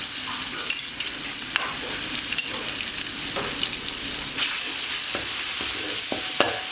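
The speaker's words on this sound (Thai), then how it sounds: "หลังจากนั้นก็นำรากผักชีกระเทียมพริกไทยที่เราตำไว้ลงผัดนะครับ" Pounded coriander root, garlic and black pepper stir-fried in pork lard, a steady crackling sizzle with scraping stirs and occasional sharp clicks of a utensil against the pan, close and continuous with no talking.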